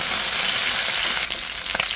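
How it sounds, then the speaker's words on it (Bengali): Cumin seeds and radhuni sizzle steadily in a little hot oil with a fried pangas fish head, a close, continuous crackling hiss with a few sharper pops near the end and no talking. "এই যে বন্ধুরা জিরা আর এলো কয়েকটা রাঁধুনি দিয়ে দিয়েছি এই তেলের মধ্যে"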